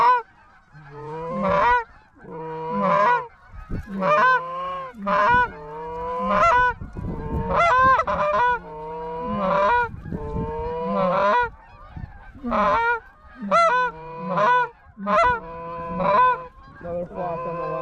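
A flock of geese honking during a field hunt, a dense chorus of loud overlapping calls in quick repeated bursts that continue throughout, close and prominent.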